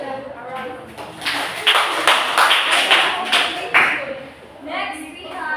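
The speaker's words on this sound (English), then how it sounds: "Let's give them a round of applause." An audience at a gathering claps in a round of applause, a few seconds of dense clapping that swells and fades, with voices talking over it.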